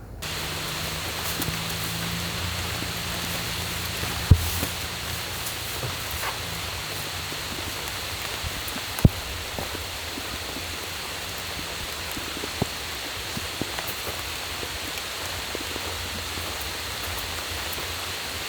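Steady rain hisses continuously close by, with occasional heavier drops and small taps against a surface breaking through the even patter.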